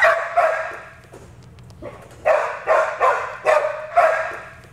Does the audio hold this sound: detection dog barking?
yes